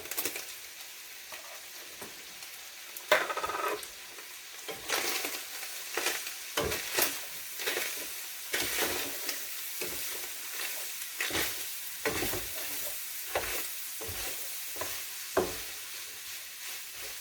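Chopped peppers cooking in a pan for a casserole dish, a steady sizzle punctuated by repeated scraping and stirring clatters of a utensil, close and fairly loud, with no voices.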